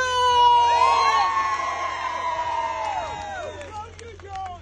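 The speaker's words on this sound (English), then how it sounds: "a big round of applause for George!" A crowd cheers and whoops for George Galloway at a gathering, loud at first with bright shouting voices, then tapering off over several seconds.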